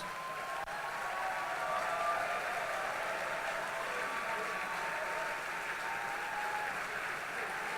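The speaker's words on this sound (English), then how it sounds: "Please, committee, stand to be applauded." Audience at a formal ball applauding its organising committee, a continuous, even patter of many hands heard from a distance, fairly faint and sustained without a break.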